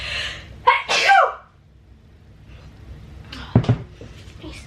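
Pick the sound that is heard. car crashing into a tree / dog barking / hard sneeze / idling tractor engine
hard sneeze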